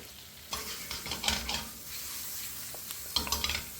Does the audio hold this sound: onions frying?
yes